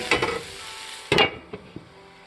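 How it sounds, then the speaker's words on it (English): Ground turkey and white beans in a pan give off a few short bursts of stirring and sizzling, two louder scrapes and a couple of softer taps over a faint hiss, close by and without talk. "let it simmer for about 5 minutes."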